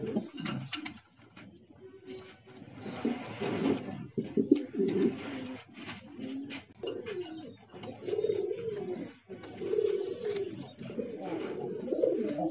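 Foreign-breed pigeons at a pigeon farm coo repeatedly in low, rolling bursts close by, several birds overlapping with brief pauses and faint chirps mixed in.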